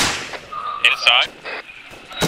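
Gunfire in the military video game ArmA 3 cracks out in a few sharp shots of varying loudness, some distant, heard alongside game sounds during a co-op mission.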